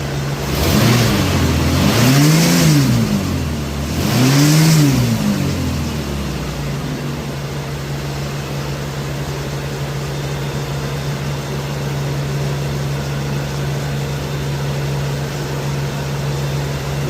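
A car engine revs twice under throttle during an OBD1 MAP sensor test, two loud rising-and-falling surges in the first five seconds, then settling into a steady idle hum.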